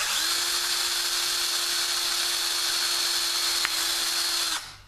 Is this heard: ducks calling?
no